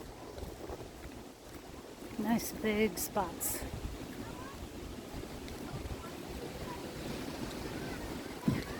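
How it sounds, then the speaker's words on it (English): Gusty wind buffets the microphone at a beach campground with palm trees the day after a storm, a steady rough rush throughout while someone speaks briefly partway through. "It's a little windy today"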